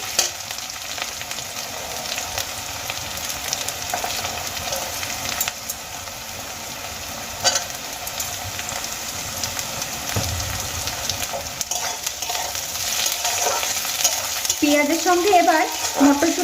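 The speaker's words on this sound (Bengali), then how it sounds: "বাঁধাকপি বা কড়াইশুটিগুলো ভেজে নেব" Shelled peas and onions fry in a pan while they are stirred, giving a steady close sizzle with occasional scraping knocks, and a voice comes in briefly toward the end.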